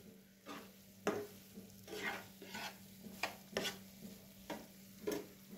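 Paneer frying in ghee in a pan on a gas stove, with a soft sizzle under repeated scraping strokes of a spatula against the pan, about a dozen uneven stirs over a steady low hum.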